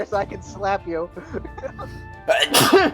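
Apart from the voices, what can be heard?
sneeze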